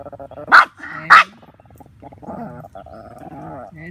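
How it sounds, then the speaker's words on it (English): A dog barks twice, loud and close, followed by lower growling and whining sounds. "another dog is coming"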